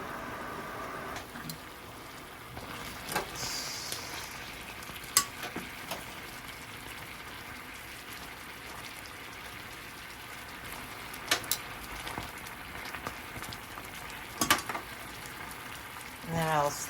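Andouille sausages sizzle and fry in a pan as the water cooks off, giving a steady low crackle with scattered louder pops and spits throughout.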